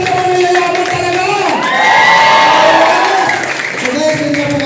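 A crowd cheers and shouts at a meet and greet for Titans Empire International, swelling loud in the middle with whoops, children's shouting and scattered clapping, and voices talking over it throughout.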